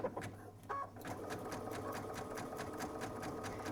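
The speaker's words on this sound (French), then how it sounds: "on va commencer à coudre un point de zigzag en croix" A sewing machine stitches a zigzag cross pattern on rope for a rope basket, running steadily and rapidly after a brief start-stop at the beginning.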